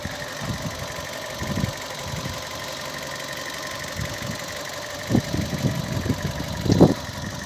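A car engine idles steadily with a low, even hum, a couple of faint knocks and bumps rising near the end, no talking.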